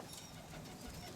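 Roller pigeons stir and coo softly at close range as they are let out to fly, a low steady murmur with faint wing movement and no talk.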